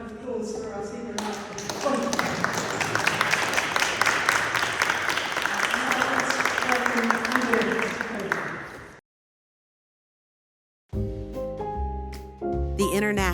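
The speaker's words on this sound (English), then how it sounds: "a further round of applause for our speaker now" Audience at a King's College London colloquium applauds a speaker in a sustained round of clapping that fades out, followed by silence and then music.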